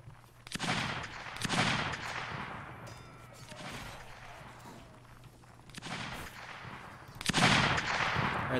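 Musket line volleys in a video game battle, several loud crackling bursts of massed fire separated by quieter gaps, with distant scattered shots in between.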